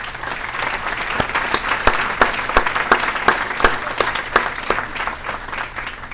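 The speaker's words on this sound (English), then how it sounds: "please give yourself a round of applause" At a 2018 business recognition awards event, the room applauds in a sustained, lively burst of many hands, with sharp individual claps popping out of the dense clatter throughout.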